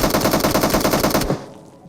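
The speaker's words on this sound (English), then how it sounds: "Now the grenade pin sound will get mixed with gunshots" A teammate fires a machine gun in a shooter video game, a loud, rapid, evenly spaced burst of shots that stops abruptly after about a second and a quarter.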